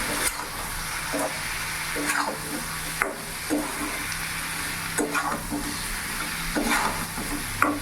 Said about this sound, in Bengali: ভালো করে একবার আমি নেড়ে চেড়ে নেবো